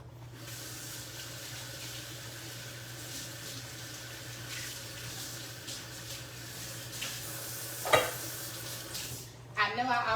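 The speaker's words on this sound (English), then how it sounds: "go ahead and put those sausage in there" Sausages frying in oil in a pan, a continuous crackling sizzle with a low steady hum underneath and a brief clatter near the end.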